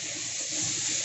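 Water pours steadily into a curry of cauliflower and fish in a pan, a brief continuous gushing splash with no talk.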